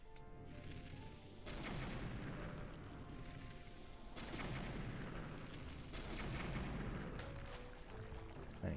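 Bombs burst against a Stone Talus in the video game Breath of the Wild, several heavy booming blasts in succession, each a broad crashing rumble that swells and trails off.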